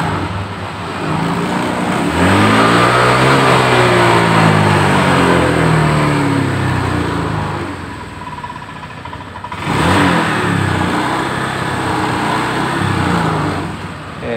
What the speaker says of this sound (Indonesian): Sekarang kita gas pelan-pelan dari nol, santai naik.